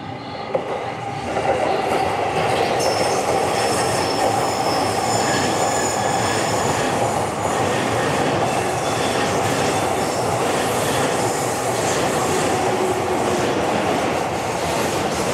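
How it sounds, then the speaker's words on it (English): Train pulling into a platform at Ueno Station in Japan, a steady loud rumble of wheels on rail with high metallic squeals and clicks running throughout, close by and continuous. "But here comes a train."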